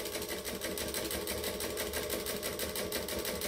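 A sewing machine stitches steadily at a moderate pace with a fast, even mechanical chatter, close and continuous, while a tote bag is sewn.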